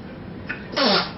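A small child gives a single sharp sneeze at home late at night, close by and fairly loud, following a brief fainter breathy sound.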